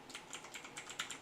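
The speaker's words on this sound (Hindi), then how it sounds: "मैं यहाँ पर टाइप करूँगा" Fast, light typing on a computer keyboard, a steady run of soft close key clicks with no one talking.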